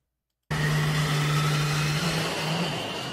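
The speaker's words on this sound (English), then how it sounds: "this is Ferrari, Ferrari going against the electric car" A Ferrari races an electric car, with a loud, steady engine roar that starts abruptly after a moment of silence and holds a sustained, droning tone throughout.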